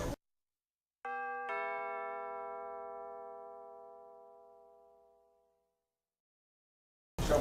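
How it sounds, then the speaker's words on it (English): A two-note doorbell chime rings clearly, with two bright tones struck about half a second apart that ring on and slowly fade into silence in a quiet room. "I mean, it sounds like a doorbell."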